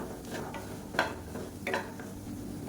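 Egg gets stirred in a frying pan with a spoon, giving a few soft scraping clinks over a quiet sizzle, fairly faint and close.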